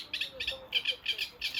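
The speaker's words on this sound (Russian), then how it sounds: "Звук на фоне натуральный, действительно поют птички" Songbirds sing in bright, high chirping phrases, four or five short bursts repeating in a steady rhythm, clear and fairly close over quiet outdoor ambience beside a grassy lawn where a family of swans and their chicks graze.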